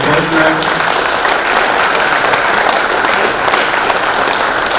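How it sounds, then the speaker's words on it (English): Round of applause from a political forum audience for school board candidates, a loud continuous roar of many hands clapping that holds steady throughout. "Round of applause for the school board candidates."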